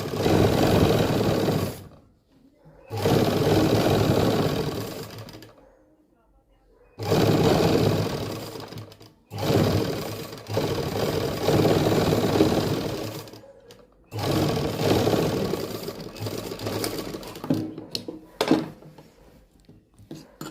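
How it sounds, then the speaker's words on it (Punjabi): An electric sewing machine stitches a fitting seam on a suit, running in several loud, fast whirring bursts separated by short silent pauses while the fabric is repositioned. "ਆਪਾਂ ਮਸ਼ੀਨ ਨੂੰ ਦੂਜੇ ਪਾਸੇ ਘੁਮਾ ਲਾਂਗੇ ਇਸ ਤਰੀਕੇ ਨਾਲ ਠੀਕ ਹੈ ਜੀ ਤੇ ਪੈਰ ਪੈਰ ਦਾ ਆਪਾਂ ਸਲਾਈ ਲਾ ਲਾਂਗੇ"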